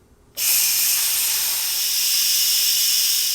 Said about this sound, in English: I'm gonna just try to use this to soak up some of that steam. And I'm using this bamboo spoon just to pull the valve back.